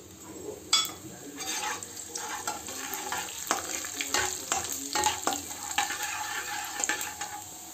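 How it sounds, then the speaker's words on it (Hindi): Cumin and fenugreek seeds sizzle in hot mustard oil, a steady close frying hiss with scattered sharp crackles and occasional utensil stirring scrapes throughout. "इसमें मैं डालूंगी फ्रेंड्स जीरा और मेथी"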